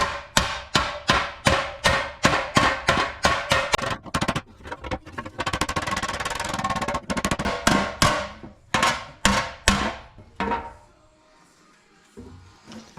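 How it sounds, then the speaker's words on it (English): Sharp metallic body-hammer blows on a rusty 1940s oil rack ring out in steady rhythmic runs, pausing briefly mid-way before more strikes, close and loud. "let's beat on this thing for a while. Well, body hammer is a little light."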